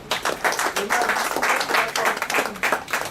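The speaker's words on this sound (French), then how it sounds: "Je vais vous demander d'applaudir ciseaux de Dieu" Audience applause at a press conference for a stage show in Cameroon, a steady rippling patter of many hands clapping at moderate distance.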